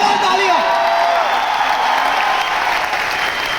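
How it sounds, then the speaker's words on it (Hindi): A large crowd in a stadium complex breaks into loud, sustained applause and cheering, a dense wash of clapping with whoops and voices rising over it that eases off slightly toward the end. "एक बार जोरदार तालियां"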